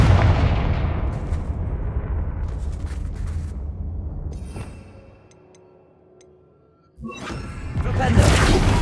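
The Confringo blasting spell fires and explodes in Hogwarts Legacy, a loud rumbling blast that fades into quiet before a second burst of crackling impact noise, with game effects layered over it.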